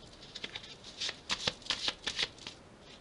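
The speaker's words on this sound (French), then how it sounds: "Je vais prendre le tarot." Tarot cards being shuffled close by, a quick run of crisp riffling flutters in short bursts, clear and alone without talk.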